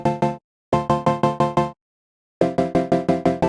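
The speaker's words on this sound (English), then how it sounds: "I also had a downsample distortion to give that bit crush feeling." Short Serum synth plucks play in three rhythmic bursts with pauses between, carrying a slightly gritty, crunchy edge from low-mix downsample bitcrush distortion.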